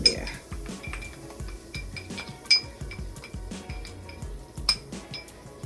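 A metal spoon stirs turmeric and curry powder in sesame oil in a pan, giving repeated light clinks and scrapes against the pan in an uneven rhythm, close up with faint background voice.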